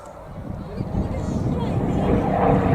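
A Lancaster bomber and Spitfires performing an air display at Cosford roar as a deep, steady engine rumble that swells slightly louder over a few seconds.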